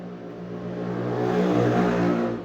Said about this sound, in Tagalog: Medyo maingay dito sa amin. Tabing kalsada kasi.